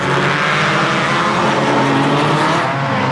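A loud, dense engine roar from a pack of race cars at the 1990 Phoenix Park Motor Races in Dublin, sustained and close with steady revving and no break across the whole stretch.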